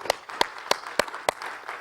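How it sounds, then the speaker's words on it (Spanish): At a church service, a few people clap in a slow, regular rhythm: five sharp, close claps about a third of a second apart, with softer scattered clapping in the background and no talk. "Den un aplauso al Señor."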